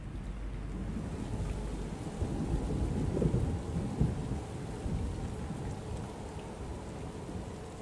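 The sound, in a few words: rain falling in the desert with thunder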